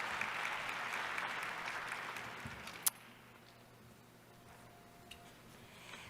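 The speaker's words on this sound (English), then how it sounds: "Great round of applause." An audience gives a round of applause after a panel at a high-level dialogue event, a dense patter of clapping that fades after about three seconds, then a quiet room with a couple of small knocks.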